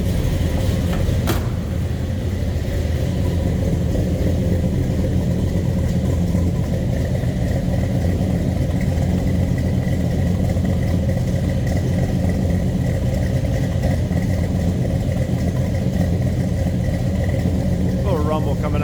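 A 1970 Pontiac GTO with a numbers-matching 400 engine idles with a steady, low, throaty rumble that holds evenly throughout.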